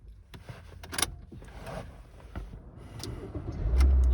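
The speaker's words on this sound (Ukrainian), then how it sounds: "Автомобіль добре заводиться, ніяких помилок немає." After some faint clicks and shuffling, the engine of a 2012 Toyota Avensis cranks and catches near the end, settling into a low, loud rumble.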